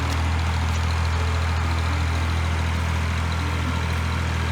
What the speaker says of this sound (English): Dad has got the tractor going.